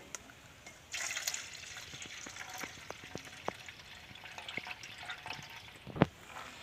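Chana dal being rinsed in clean water, a wet swishing and sloshing with small drips and splashes, a brief louder splash near the start and a sharp clink toward the end, close by with no talk.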